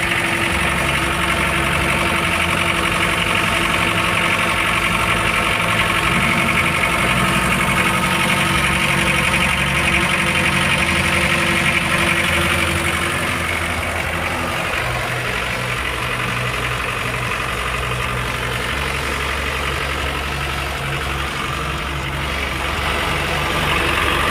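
A Toyota Dyna 70 six-wheel truck engine idles steadily with a low, even rumble and faint knock, holding the same level throughout with no voices.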